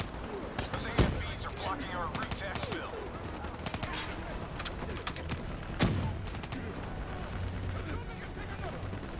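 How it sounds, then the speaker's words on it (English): A firefight in the shooter Call of Duty Black Ops III, with scattered sharp gunshots and heavier blasts over a busy, noisy battle bed and faint voices. "I'm just kind of shooting at anyone which appears to be shooting at me."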